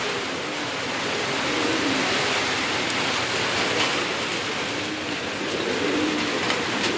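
Heavy rain during Cyclone Remal pours steadily outdoors over a pigeon market area, a dense continuous hiss with no break and no voices.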